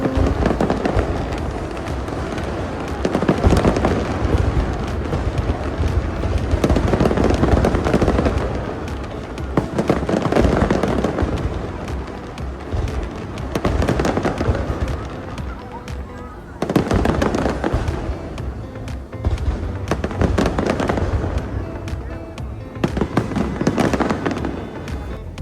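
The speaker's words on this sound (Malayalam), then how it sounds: "രണ്ടാമത്തെ ഫയർ വർക്ക്സിൻ്റെ ടൈമായി" Fireworks bursting over Marina Bay Sands in Singapore during a trial show, a dense, continuous run of loud booms and crackling pops in repeated waves across the whole stretch, with crowd chatter mixed underneath.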